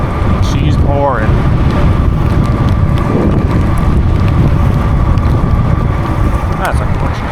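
Heavy storm rain pours steadily as a loud, dense hiss and patter with buffeting wind close by, a few faint squeaks breaking through.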